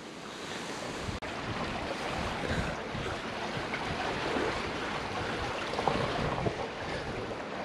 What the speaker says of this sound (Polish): Rzeka przepływa pod budynkami.